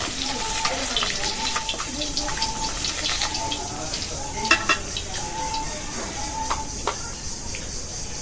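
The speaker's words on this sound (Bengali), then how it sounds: "টাটকা মাছ তো একটু ভাজতে হবে একটু হালকা ভাজলে একটু ভালো লাগে" Fresh tengra fish frying lightly in oil makes a dense crackling sizzle with occasional spatters and stirring, while a voice murmurs faintly underneath.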